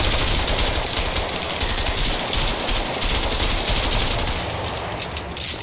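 Rapid automatic gunfire in the video game A Way Out, loud, continuous bursts of machine-gun shots rattling close by with no talking over them.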